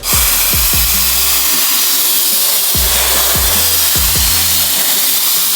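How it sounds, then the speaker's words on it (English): A turbofan air blower drying a Ford Mustang roars loud and steady throughout, with a bright rushing airflow and repeated dips and swells in pitch as the operator works it around the car's nooks and crannies. "Let's go ahead and demonstrate just how good the turbofan is gonna be getting those nooks and crannies"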